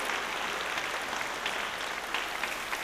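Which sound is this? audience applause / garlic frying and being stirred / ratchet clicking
audience applause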